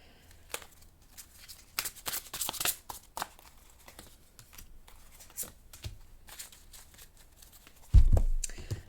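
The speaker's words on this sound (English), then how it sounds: "I'm going to shuffle a little more." Soft riffling and shuffling of a tarot card deck in quick bursts, with quiet pauses between, ending in a louder thump.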